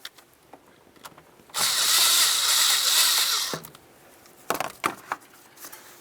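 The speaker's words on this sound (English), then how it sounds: "We're going to use an 8mm to loosen up this clamp just enough so we can start sliding this off." Powered driver with an 8mm socket loosening a hose clamp on a 2006-2010 Ford Explorer engine: one steady two-second whir, framed by clicks and handling knocks, close and without speech.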